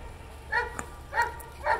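A West German Showline German Shepherd gives three short barks spaced evenly apart, at moderate distance over a quiet background.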